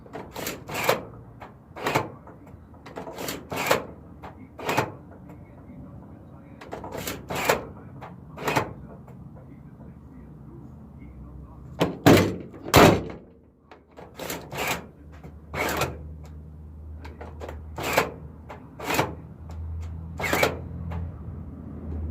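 A Sprinter van's door locks clunk and its door bangs shut, producing repeated sharp mechanical clicks and thuds spaced a few seconds apart, with a quick cluster of knocks near the middle and no speech.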